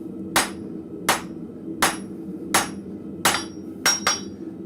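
A blacksmith's hammer flattens steel on an anvil in a forge, ringing in seven sharp, evenly spaced strikes, the last two coming close together, over a low background hum.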